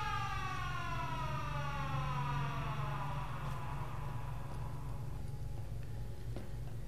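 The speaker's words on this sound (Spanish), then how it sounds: "¿Una sirena? No jodas." A wailing civil-defense-style siren in the video game Half-Life 2: Episode Three, its tone sliding slowly downward under a steady low ticking drone, with no talking.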